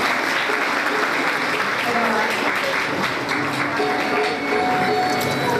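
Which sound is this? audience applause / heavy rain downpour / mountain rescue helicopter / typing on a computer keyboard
audience applause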